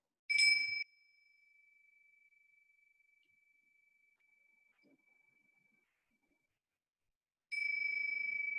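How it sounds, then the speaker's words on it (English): A mindfulness bell rings out clearly with a bright, sustained tone that fades slowly over several seconds into near silence, then a second strike sounds near the end; only two rings are evident. "I'm going to ring the bell 3 times."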